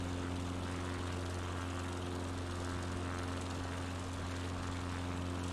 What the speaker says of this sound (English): That is a nice flying little plane too.